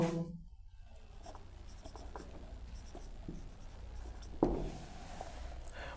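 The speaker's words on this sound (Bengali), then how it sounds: "তাহলে সূত্রটা লিখব" Pen or chalk writing out a grammar rule by hand, a faint, quiet scratching of short strokes over a low room hum, with a single louder tap near the end.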